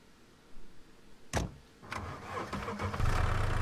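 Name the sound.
car engine starting in video game Scum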